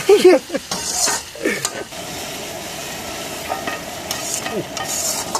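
A ladle stirs chilli chicken in a pan during village outdoor cooking, scraping with soft sizzling frying beneath, a brief voice near the start and ambient background noise throughout.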